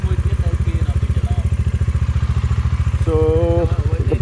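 A motorcycle on a road trip in Phnom Penh, Cambodia idles with a steady, close, rhythmic engine thump throughout, with a brief tonal sound near the end.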